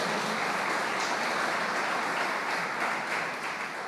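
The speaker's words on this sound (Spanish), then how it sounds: "Dele un aplauso al Señor." A church congregation applauding steadily, dense clapping that holds at a constant level throughout, with no voices standing out.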